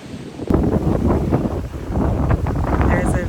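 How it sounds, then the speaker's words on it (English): Wind gusts across a warm beach in San Pedro, Belize, rushing steadily against the microphone with low rumbling buffets and no clear break. "Time to relax on the windy beach."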